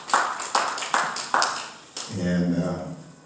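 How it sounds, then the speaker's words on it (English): At a community forum, an audience gives a few sharp, spaced claps, then the sound fades into a murmuring room. "a hand clap."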